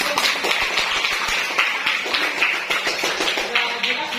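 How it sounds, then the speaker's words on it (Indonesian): A classroom group claps together after a mathematics student presentation, a dense run of overlapping hand claps that stays steady and fairly loud for a few seconds, with some murmuring voices underneath. "Oke, tepuk tangan."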